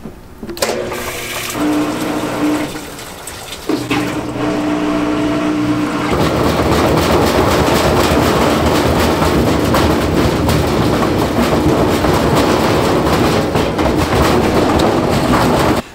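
A washing machine runs with a GoPro Hero 9 clamped to it, starting with a few clunks and a hum, then a loud continuous rumbling, rattling churn that keeps going.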